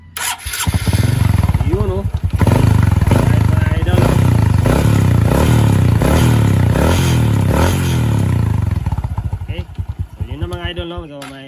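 A motorcycle engine cranks over on a 4-pin relay wired as a starter relay, then catches and runs loudly and steadily with a rhythmic pulsing idle before cutting off near the end, with a voice talking over it.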